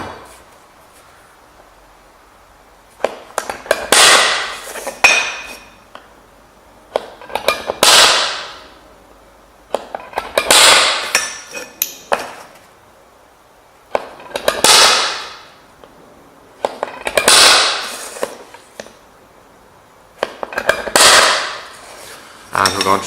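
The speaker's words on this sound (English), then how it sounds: "So we're going to punch those different locations now." Sharp metallic hammer strikes on a punch into metal land in tight clusters, about seven groups spaced a few seconds apart, loud and close with quiet gaps between.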